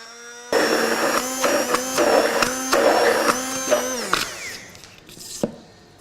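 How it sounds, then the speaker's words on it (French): An immersion blender purees a preparation for confit veal tendron with sugared almonds, giving a loud motor whir that starts abruptly, holds for a few seconds with slight pitch dips, then winds down to quieter rattles. "je vais la mixer avec une petite girafe que j'ai juste devant moi"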